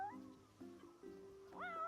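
A cat in Final Fantasy XV gives several rising meows in close succession, the last one loud and drawn out, set over steady game music with no talking.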